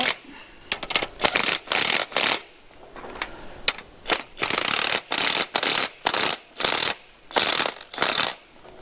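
Ratchet wrench clicking in repeated bursts while tightening bolts on the rock guards of a New Idea model 50 sickle mower cutter bar, a steady run of close, loud ratcheting strokes with short pauses between, no talk.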